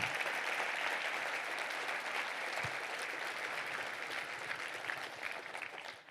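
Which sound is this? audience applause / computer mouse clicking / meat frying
audience applause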